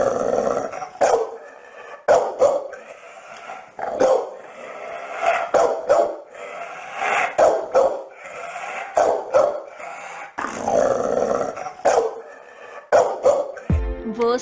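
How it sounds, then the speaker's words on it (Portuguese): A Pitbull barks in a long, continuous volley of deep, rough barks mixed with growling, sustained and fairly close, ending in a brief burst of noise. "Latido de cachorro Pitbull."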